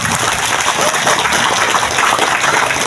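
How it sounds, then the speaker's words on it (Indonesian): Audience applause at a Balinese temple consecration ceremony, a loud dense rattle of many hands clapping steadily throughout, close and continuous. "Tepuk tangan dulu nih"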